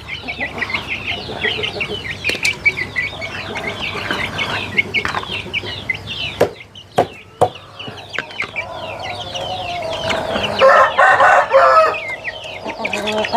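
Chickens on a home-based farm clucking and calling busily while being fed, with a few sharp taps and a louder burst of clucking toward the end, close by.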